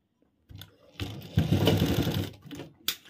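Sewing machine stitching a piped cross pocket on trousers, a short run of rapid stitching lasting about a second and a half, with brief handling clicks before and after.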